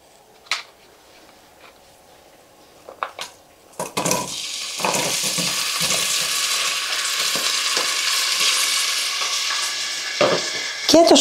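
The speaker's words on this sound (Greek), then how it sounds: "Περιμένουμε λίγο να ζεσταθεί και θα ρίξουμε και το κρεμμυδάκι μας." Chopped onion dropped into hot olive oil in a cooking pot, bursting into a steady loud sizzle after a few light clinks, frying continuously close by.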